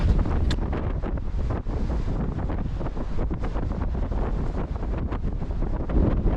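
Strong, steady wind buffets the microphone on an exposed hill on a muddy path in East Cheshire, a loud continuous roar with gusty surges and no voices.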